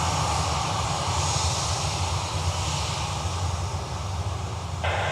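A large Aer Lingus passenger jet passes at Dublin Airport, a loud, steady roar of engines that holds and slowly shifts tone throughout, with no voices.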